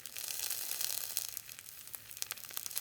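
Bacon sizzling inside a paper bag held over a campfire, a steady bright crackle with scattered pops, fairly faint and continuous with no talking.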